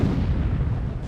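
A cannon booms in Myth II: Soulblighter during a beach landing battle. The heavy, low rumbling blast is loud and close and fills the whole moment on its own, with no voices over it.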